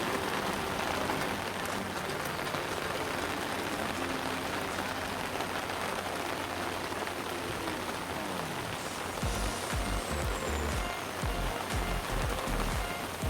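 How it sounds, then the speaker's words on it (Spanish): Heavy tropical rain on Big Corn Island pours down steadily as a dense broadband hiss on surfaces, with a lower rumbling patch of heavier splashing near the end and no voices. "Hay una lluvia increíble."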